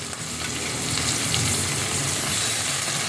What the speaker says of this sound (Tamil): உருளைக்கிழங்கையும் போட்டுடுறேன்.